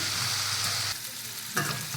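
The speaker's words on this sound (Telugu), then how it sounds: "దొండకాయలు సగం మగ్గిపోయినాయి చూడండి బాగా మగ్గినాయి" Ivy gourds frying in a pan, a loud close sizzle that drops off abruptly partway through, then bursts back up as stirring resumes.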